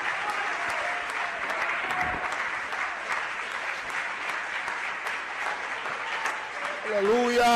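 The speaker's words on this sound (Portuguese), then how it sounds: "Se você acredita nisso, aplauda Jesus Cristo." A church congregation claps and applauds for Jesus Christ, a sustained dense clatter heard at a moderate distance, with a voice rising near the end.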